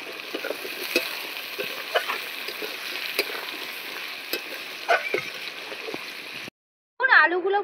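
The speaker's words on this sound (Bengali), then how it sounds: "আলুগুলো এই মশলার সঙ্গে ভালো করে একটু কষিয়ে নিতে হবে" Potatoes fry in plenty of oil with garlic, onion and spices, a constant bubbling sizzle punctuated by utensil clinks, then a brief gap and a voice speaking at the end.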